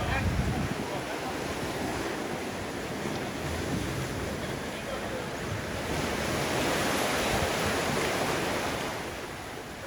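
Ocean waves surge and wash in a steady, loud roar of surf close by, with wind buffeting the microphone throughout.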